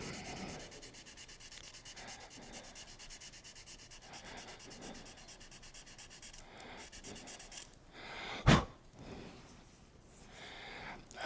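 Steady scratchy rubbing of sandpaper on a turned pecan wood pen runs continuously, briefly interrupted near the end by a sharp knock, then resumes more quietly.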